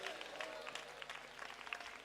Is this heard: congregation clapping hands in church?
yes